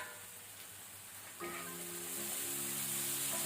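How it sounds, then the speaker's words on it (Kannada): Soya keema mixture simmers in a covered pan over a low to medium flame, giving a steady, close bubbling hiss that grows slightly louder over the few seconds. "ಇದೀಗ ಒಳ್ಳೆ ರೀತಿ ಕುದಿ ಬಂದಿದೆ"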